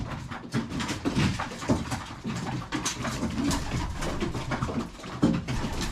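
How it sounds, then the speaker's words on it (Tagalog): Imported domestic pigeons coo softly and repeatedly close by, mixed with scattered bird calls and some dog-like whimpering, with no talking. "pagmasdan nyo muna yung mga kalapati ko mga boss"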